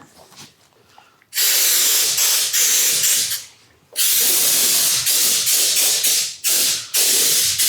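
Several long hissing sprays of alcohol from a spray bottle, loud and close, separated by short pauses.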